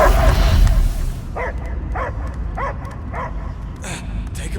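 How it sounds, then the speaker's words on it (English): A dog in a Guardians of the Galaxy video game barks in a steady series of about six evenly spaced barks over a rumbling ambient background, following a loud low-pitched opening. "I hear only barking."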